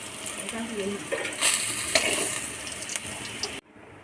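Food sizzles and crackles in a frying pan with salt and a pinch of turmeric, a steady hiss with scraping stirs, close up, before cutting out abruptly.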